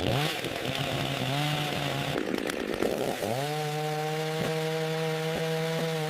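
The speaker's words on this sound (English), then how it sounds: "Using a chainsaw, I make cuts according to the required notch depth so that the log sits properly on the beam below." A chainsaw cuts notches into a wooden log for a forest cabin, its high whine bogging down in the wood, dropping briefly, then revving back up to a steady loud drone with small dips.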